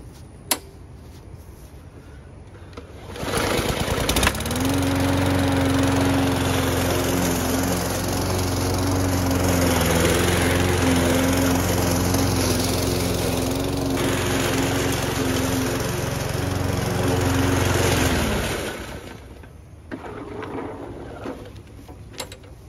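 A Murray gas lawn mower engine starts with a quick pull and then runs steadily at a close, loud, even drone for about fifteen seconds before cutting off and leaving quiet outdoor background.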